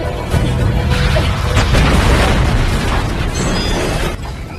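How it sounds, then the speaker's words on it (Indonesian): A public toilet explodes after fuel puddled around it ignites, producing a loud, dense, roaring blast that rumbles on for several seconds before dropping off slightly at the end. "Untungnya ia berhasil melompat saat toilet itu meledak."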